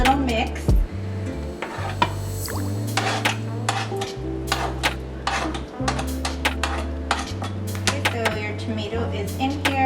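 Cut tomatoes being stirred in a bowl for ceviche, with clinks and scraping taps of a utensil against the bowl repeating close by over a steady low kitchen hum.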